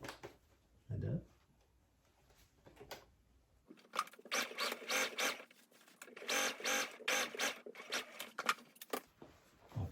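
A sewing machine runs a second stitch along the pocket side of men's pants, rapid mechanical bursts in short stop-start runs following a quiet stretch with light handling noise.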